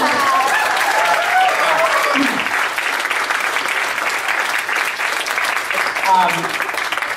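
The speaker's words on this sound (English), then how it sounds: "the applause really are for John and Paul and Mr. Sousa" Audience applause at a fan convention panel, sustained dense clapping from a crowd with a voice speaking over it.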